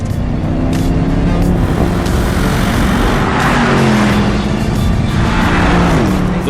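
Porsche Panamera GTS V8 bi-turbo engine accelerating, a loud, dense roar with rising pitch sweeps and short gear-change dips, close and continuous.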